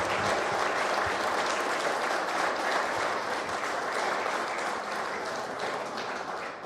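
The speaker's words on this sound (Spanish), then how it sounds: "De nueva cuenta les pido un fuerte aplauso" Sustained audience applause at a book presentation honoring a teacher, dense and steady clapping from a full room that tapers slightly toward the end, with no talk over it.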